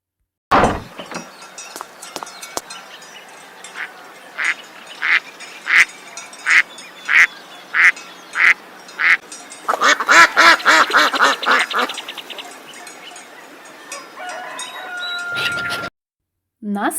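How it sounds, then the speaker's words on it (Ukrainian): A duck quacks repeatedly in a steady rhythm of loud, close calls, then breaks into a rapid, overlapping burst of quacking before stopping. "Що це за пташка? Звісно, качка."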